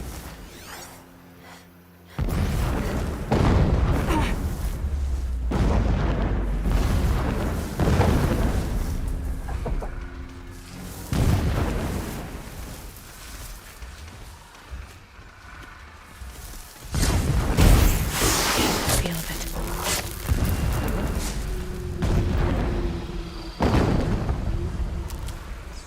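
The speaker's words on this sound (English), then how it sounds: "explosions in the distance. Pay that no mind." Distant explosions in the video game Horizon Zero Dawn Remastered roll in as deep, rumbling booms, several separate blasts swelling and fading over a continuous outdoor ambience.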